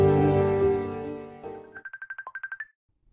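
A cellphone ringtone plays a short electronic melody of bright, evenly spaced beeping notes that follow a sustained tone, then cuts to silence.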